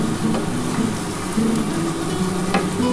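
Whole spices fry in hot oil for a duck egg curry with a steady, dense sizzle and bubbling crackle, continuous and close throughout, with faint tonal music underneath.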